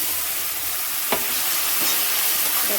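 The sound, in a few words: spice paste sizzling and stirred in pan for chhanar dalna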